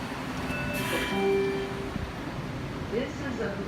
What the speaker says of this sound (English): This is a Blue Line train to Franconia Springfield.